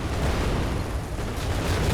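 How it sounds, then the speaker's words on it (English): Dense, continuous rumble of explosions and roaring fire from a Scorched Earth build in a video game, loud and sustained with overlapping bursts throughout and no talking. "And you just hear the explosions and everything."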